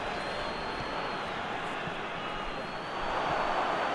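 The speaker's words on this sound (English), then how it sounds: "Crowd calling for him to..." Stadium crowd noise in the PES 2021 football game during a Euro 2020 match between Austria and North Macedonia, a steady broad roar that rises louder near the end, with a commentator talking over it.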